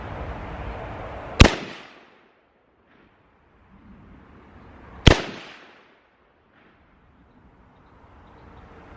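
Two sharp rifle shots fired at a bullseye target, each a loud, close crack followed by a fading echo, spaced a few seconds apart with quiet between.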